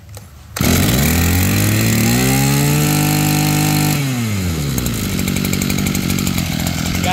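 A Mitsubishi TL26 brush cutter engine, a Japanese two-stroke grass trimmer, starts and runs loud and close, revving up and falling back to a steady buzzing idle.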